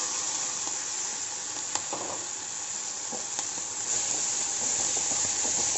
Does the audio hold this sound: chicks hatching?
no